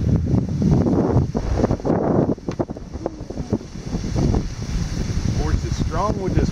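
Strong wind buffets the microphone on a fishing boat, a loud, continuous rumbling roar with gusty swells throughout. A voice is faintly audible underneath near the end.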